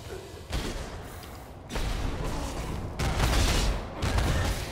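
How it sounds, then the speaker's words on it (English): Enemy gunfire in the game Path of Exile, dense crackling volleys and booms arriving in several loud waves, with a little speech under the noise. "Something is shooting at us."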